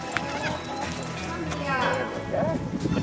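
Horse hooves clip-clop amid outdoor noise at a cattle station in Australia's Northern Territory, with a horse snorting and voices talking in the background.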